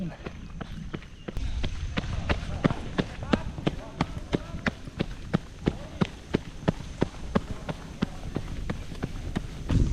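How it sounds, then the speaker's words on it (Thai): Footsteps jogging in Qiaodan Feiying PB 4.0 running shoes land as a steady run of sharp, evenly spaced taps close by, following a brief rustle at the start. "ไปจ็อกกันสักนิดนึงก่อน"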